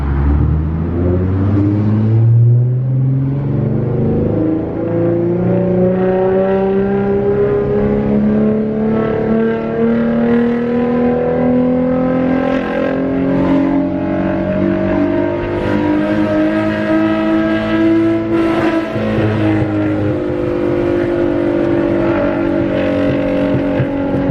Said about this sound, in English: this is the first gear pull from 0 RPMs all the way to 7